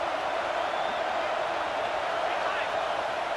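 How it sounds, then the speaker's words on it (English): A home crowd at a football game roars in a steady, dense wall of cheering and noise that holds loud and unbroken throughout, with no single voice standing out. "Man, this crowd really affecting the football game."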